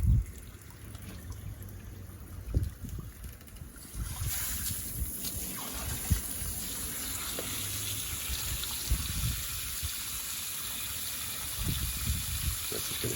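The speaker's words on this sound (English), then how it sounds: "I'll open it up so it's doing more of a flush." Water rushes through a Chinese-made RO filter system, a quiet steady flow that grows louder and fuller after a valve is opened partway through, with occasional bumps and gurgles nearby.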